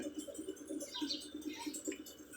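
Pigeons coo softly in a steady, repeating rhythm, with faint rustling and background noise around them.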